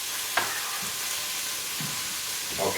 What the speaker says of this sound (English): so we're gonna stir these up